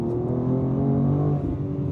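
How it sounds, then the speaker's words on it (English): A 2026 BMW M2 CS with modified exhaust burbles and crackles on overrun as the revs drop, a low rumbling exhaust note fading off over two seconds. "You are getting more overrun chortling on liftoff, and then at wide open throttle"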